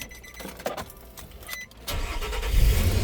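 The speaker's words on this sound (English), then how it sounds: "You can see the car is starting and it's running" A 2008 Nissan Pathfinder is started: a few faint clicks, then the starter cranks and the engine catches near the end, settling into a loud, close rumble of running.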